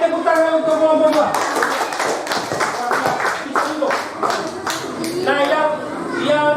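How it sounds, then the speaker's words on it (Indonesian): A primary-school class claps together in a fourth-grade classroom, an uneven burst of hand claps with children's voices chattering loudly over and around it throughout. "tepuk tangan untuk kelompok 2"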